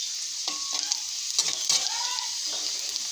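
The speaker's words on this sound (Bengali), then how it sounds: "এখানে দিব একটা শুকনো লঙ্কা ফোড়ন, গোটা জিরা ফোড়ন" Dried red chilli, whole cumin seeds and bay leaf spit and crackle in hot oil after fried potatoes, a bright sizzle broken by a few sharp clinks and scrapes of a stirring spoon.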